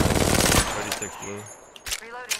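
A close, rapid burst of automatic gunfire rattles in Apex Legends, a fast string of sharp shots that cuts off abruptly, followed by a voice talking over quieter game sounds.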